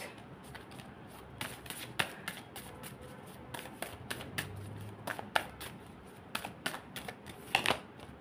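Tarot cards are shuffled and drawn, making quiet, close riffling and flicking with irregular sharp card snaps scattered across a soft background.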